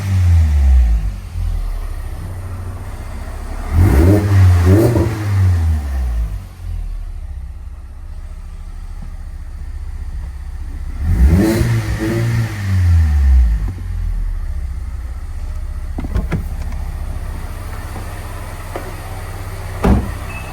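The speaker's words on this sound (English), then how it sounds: "I'll give it a little bit of a rev" A supercharged 2022 Mazda Miata RF engine idles low, then revs sharply twice, each rev climbing and falling back, heard muffled from inside the car.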